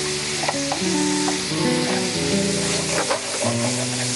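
Spice masala sizzling and frying steadily in a pan with a splash of water added, a dense continuous hiss with occasional stirring scrapes, close and fairly loud throughout, with no voices.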